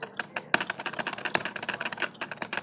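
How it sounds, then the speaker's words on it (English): A working Lego typewriter clacks out a quick, irregular run of sharp plastic key strikes, close and distinct, with many taps in rapid succession. "So the typewriter really works."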